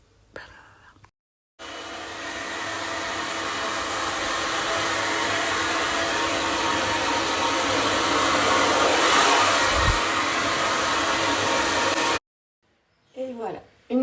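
A hair dryer runs steadily for about ten seconds in a home hair-drying routine, a loud continuous airy whoosh that starts abruptly and cuts off, with brief speech just before and after.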